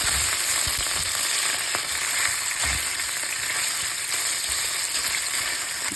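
Garlic and tiny gulas fish frying in a pan for an egg dish, giving a loud, continuous close-up sizzle and crackle throughout, with a few soft utensil taps.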